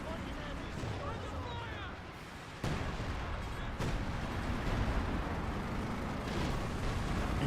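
Artillery barrages in the Company of Heroes 2 strategy game, a dense, continuous rumble of distant shell blasts and gunfire with sharp bursts near the three- and four-second marks, running steadily throughout.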